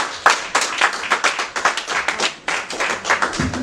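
A church congregation claps together in a lively, steady rhythm, loud and close, with dense overlapping hand claps continuing throughout.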